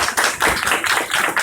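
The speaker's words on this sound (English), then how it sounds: "Let's give them a round of applause, please" A small group claps for student delegates at a youth leadership event for 8th and 9th graders, close and loud, a brisk burst of quick, uneven hand claps.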